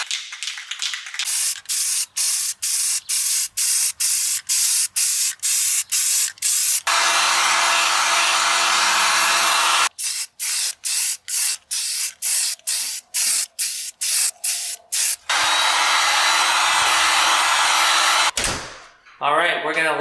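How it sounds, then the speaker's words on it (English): Heat gun blowing hot air to dry fresh paint on a hub from an abandoned Tri 5 Chevy build: two steady, loud roaring hisses of a few seconds each, set between runs of rapid short spray-like bursts, with no talking. "One of the big benefits of having a heat gun is you can reduce dry times."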